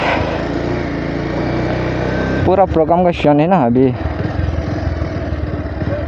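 Motorcycle ridden into youth festival grounds, its engine running steadily with a few sharp throttle blips and revs midway, close by, while someone talks over it.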